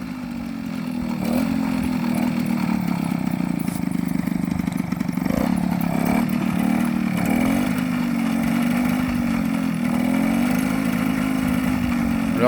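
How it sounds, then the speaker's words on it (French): A Peugeot 103 RCX moped's small two-stroke engine runs at a steady, buzzing idle, loud and close, its pitch wavering slightly without stopping, and no one speaks. "Tu la démarres, Mika? Et ça démarre au quart."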